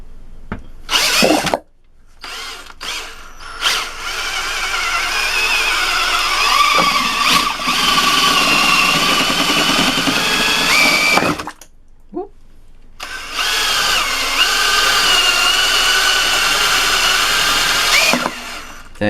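A power drill fitted with a mixing attachment churns homemade pumice hand soap, whirring steadily in long loud bursts, stopping briefly twice before spinning up again.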